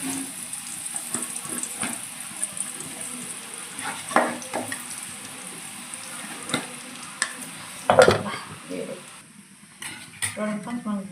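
Boondi batter sizzles as it drops into hot frying oil, a steady crackling bed broken by sharp clinks and scrapes of a metal ladle against the pan, with no talking.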